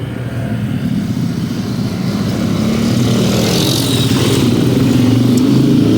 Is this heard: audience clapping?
no